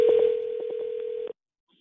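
Steady phone dialing tone broken by quick keypad beeps, clear and close, then cutting off abruptly into near silence.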